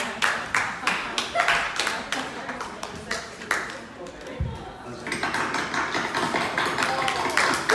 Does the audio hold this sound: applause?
yes